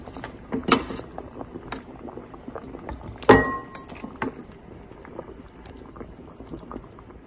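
Pot of water boiling with beef bones for pho broth, a steady close bubbling and churning with a couple of sharp clinks of metal or bone against the pot.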